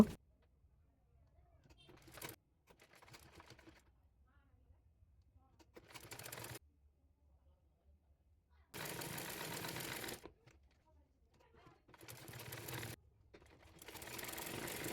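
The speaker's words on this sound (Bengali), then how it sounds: "পর ইয়োক ডিজাইনটি সেলাই করে নেব" An electric sewing machine stitches a yoke design on a kameez in several separate bursts of steady whirring, each a second or two long, with quiet pauses between them.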